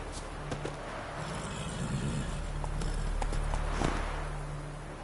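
Hooves clip-clop in a steady gallop as a horse runs in The Witcher 3: Wild Hunt, close and continuous over a wash of ambient game sound, with no talk.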